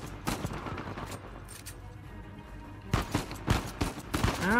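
Gunfire aimed at the player character in the video game Uncharted 4: a few sharp shots early on, then a cluster of bursts in the last two seconds, moderately loud against quiet game ambience.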